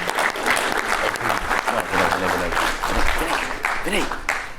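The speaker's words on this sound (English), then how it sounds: "Ladies and gentlemen, another round of applause for EXA." Sustained applause from a large audience at a pitch contest fills the whole stretch, steady and loud, with a voice faintly audible through the clapping.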